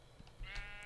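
A single short sheep bleat from the video game Minecraft, quiet and clean, with a soft wavering tone.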